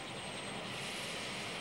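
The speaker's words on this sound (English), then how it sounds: "King Hussein guided his helicopter smoothly into Jericho" King Hussein's helicopter landing in Jericho in the West Bank gives a steady, loud, close engine and rotor roar that fills the whole moment without a break.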